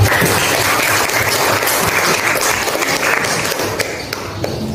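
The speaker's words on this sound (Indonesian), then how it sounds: "Silakan tepuk tangan dulu buat Abdul." A classroom of students claps together in a dense, steady round of applause that is loud and close, then tapers off slightly toward the end.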